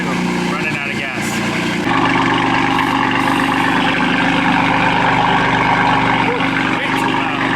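A BMW M4 GTS engine runs steadily at idle, a dense, loud mechanical drone filling the whole clip with a deep low rumble, sounding close and constant, with a slight shift in tone partway through.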